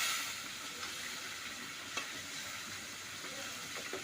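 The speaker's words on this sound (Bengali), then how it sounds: "পুরো ভাজা ভাজা করে লাগছো" Frog meat frying in oil in a pan, giving a steady broadband sizzle and hiss throughout with a few faint clicks, close and moderately quiet, with no talking.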